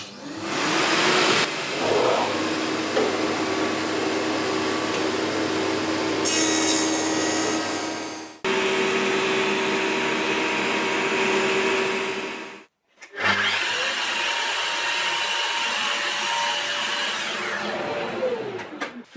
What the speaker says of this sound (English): I'm going to do my first pass using this reference edge here on the bed of the planer to take off a bit on this edge here